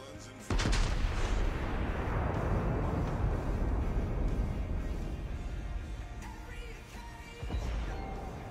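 A German battleship's main guns fire in a World of Warships naval battle: one sudden heavy blast, then a long rumbling roar that slowly fades, and a second thump near the end.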